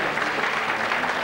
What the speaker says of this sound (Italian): Ci sta l'applauso, grazie.